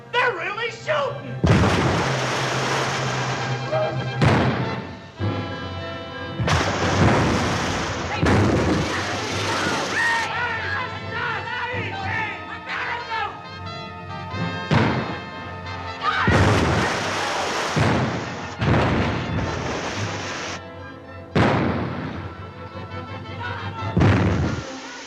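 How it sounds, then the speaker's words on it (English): Heavy gunfire from a 1943 wartime comedy, loud repeated booms and blasts in bursts with short gaps, with shouting voices and music mixed underneath. "You hear them guns? Ah! Holy smoke! They're not saluting. They're really shooting."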